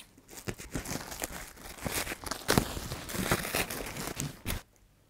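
A cardboard parcel is cut open with scissors, giving close, busy crinkling and tearing noises in uneven bursts for several seconds before it goes quiet.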